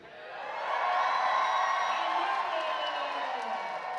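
A wrestling show audience at Lucha Goth cheers and yells. A roar of crowd noise swells up in the first second, then holds as a sustained wall of voices.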